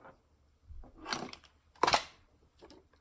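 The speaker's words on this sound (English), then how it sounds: "grab a pair of scissors." A pair of scissors snips in a workshop, three or four sharp, close clicks spaced irregularly over a quiet background.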